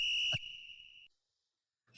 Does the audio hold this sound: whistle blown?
yes